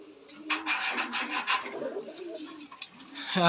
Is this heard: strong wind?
no